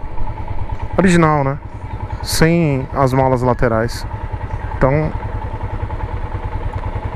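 A Royal Enfield Himalayan motorcycle engine thumps at a steady low idle while riding, a constant close rumble under two men conversing.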